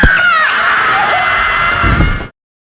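A woman in a horror film about an exorcism screams hysterically, one loud, sustained, shrill cry lasting about two seconds before cutting off abruptly into silence.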